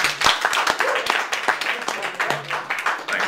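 Audience at a New York comedy club claps for a comedian taking the stage: a full round of applause with sharp individual claps standing out, near and steady, then tapering.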